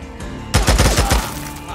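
Gunfire from the video game Days Gone: a burst of several rapid, loud shots in quick succession, close and punchy, following a quieter stretch of game ambience.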